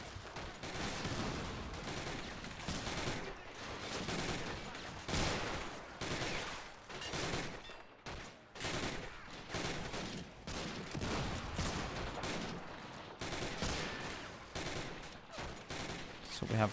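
Dense gunfire in the World War II video game Men of War: Assault Squad during a street battle at Foy, with rapid rifle and machine-gun bursts crackling continuously, interrupted by brief gaps and heavier blasts.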